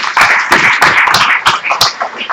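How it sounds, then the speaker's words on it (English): Audience applause at a team meeting, loud and close: a short run of uneven claps from a small group, lasting a couple of seconds. "Round of applause for her."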